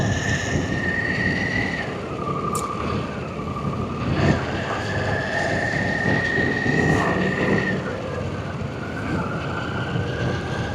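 Harley Davidson Pan America motorcycle engine while riding, a steady loud drone with wind roar throughout and gentle pitch shifts as revs change, no talking.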